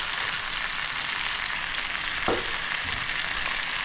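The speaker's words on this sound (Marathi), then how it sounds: "मासा लवकर फ्राय होतो 5 ते 10 मिनिटातच" Tilapia frying in hot oil gives a steady, even sizzle that holds throughout, with one brief sharper crackle partway through; no voices.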